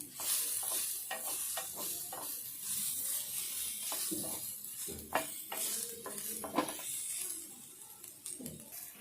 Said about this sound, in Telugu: ఈ ముక్కలన్నీ ఇట్లా దగ్గరికి వచ్చేదాకా వేయించుకోవాలి.